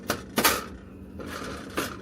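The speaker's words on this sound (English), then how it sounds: "We like to put holes on our bottom of our pizza crust." A fork pokes holes in deep dish pizza crust in metal pans, giving sharp metallic taps and scrapes in uneven clusters, close and crisp, with quieter scraping between the strikes.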